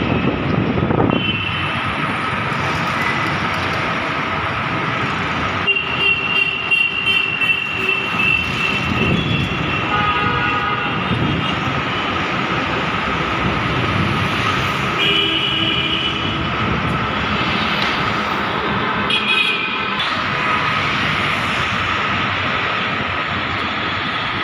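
Steady, loud traffic roar from a busy highway below a metro station, with engines droning and occasional vehicles rushing past.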